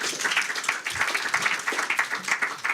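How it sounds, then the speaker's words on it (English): An audience applauds at a venture capital panel on AI startups, a steady patter of many hands clapping indoors, moderately loud and continuous. "Applause."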